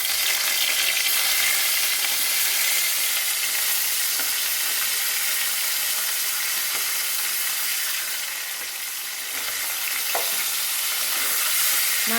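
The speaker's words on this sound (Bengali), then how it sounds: "এখন আমি মাছগুলো হালকা করে আমি ভেজে নেব" Salted hilsa fish lightly frying in a pan crackles with a steady, dense sizzle throughout, with a brief dip in loudness near the middle and a few small pops.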